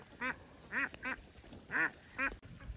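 Forty-five-day-old farm ducks give about five loud, nasal quacks in uneven bursts close by, with quiet gaps between calls.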